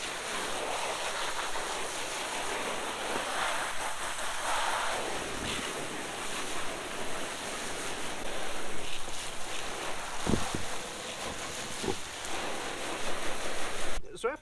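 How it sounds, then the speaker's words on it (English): Water sprays over rubber car floor mats during a rinse, a steady broadband hiss and splatter lasting about fourteen seconds with a few brief knocks, close and continuous with no talking. "Now I'm just going to give them a good rinse."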